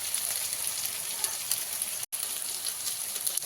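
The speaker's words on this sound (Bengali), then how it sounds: "গাঁঠি কচুটা ভাজা হয়ে গেছে" Chunks of taro (gathi kochu) sizzle steadily in hot oil in a pan, a soft even crackle close by with a brief dropout midway.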